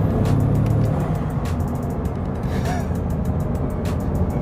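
A 2017 Bugatti Chiron accelerates hard at full throttle after a downshift from around 2,500 RPM, its loud, dense engine roar and wind rush heard from inside the cabin, building steadily without pause.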